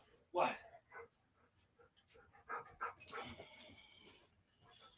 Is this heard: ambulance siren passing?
no